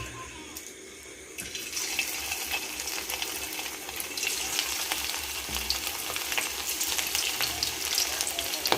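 Chicken pakoras frying in hot oil, a dense, continuous crackling sizzle that swells louder after a quieter opening and keeps bubbling with sharp pops to the end.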